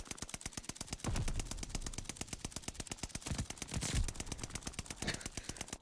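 Rapid automatic gunfire from Call of Duty Vanguard shooting through a wall, a steady, fast stream of sharp shots lasting the whole stretch, loud and close with heavier thumps mixed in and no talk over it.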